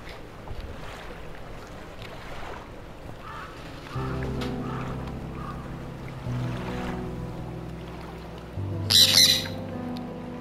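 Crows squawk around a small fishing boat in the fishing game Dredge, with faint cries at first, then a low engine rumble and water ambience beneath a loud, harsh burst of squawking near the end.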